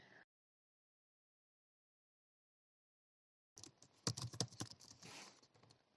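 Quick bursts of typing on a computer keyboard, a close run of sharp clicks that follows a long silence.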